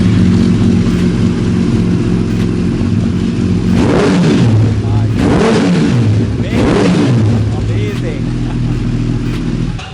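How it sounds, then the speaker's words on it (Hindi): A Kawasaki ZX10R superbike fitted with an Akrapovic exhaust, idling loudly and close, then blipped through several sharp throttle revs that rise and fall before settling back to a throbbing idle, with people talking nearby. "यहाँ पे लगा है Akrapovic ZX10R में। इसका साउंड कैसा है अभी"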